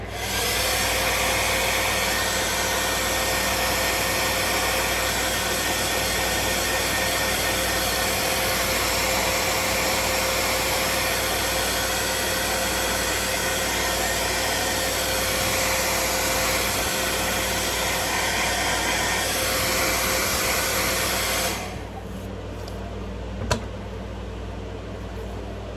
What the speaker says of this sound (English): in between coats of paint, I like to give it a little dryer heat set. This is a Conair 1875 from Walmart